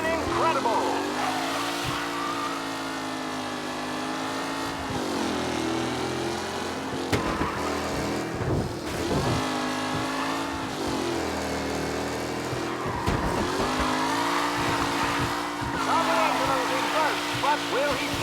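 Race cars lapping in Mafia Definitive Edition, with steady engine drones that rise and fall as the cars shift and pass, and brief tire squeals, all under a race commentator's continuous voice.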